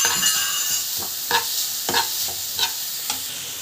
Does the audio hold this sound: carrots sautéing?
yes